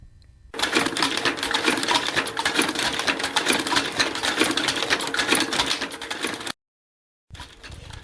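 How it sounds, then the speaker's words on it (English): A sewing machine runs steadily with its two top rods throwing, a dense, rapid mechanical clatter that starts after a brief pause, cuts out near the end, then resumes, loud and close with no voices. "Here the machine is in action before I finally found the sweet spot."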